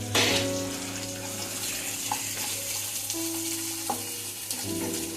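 Onions and green chillies frying in a pan for Chinese fried rice, giving a steady, close sizzle with occasional stirring scrapes and no talking.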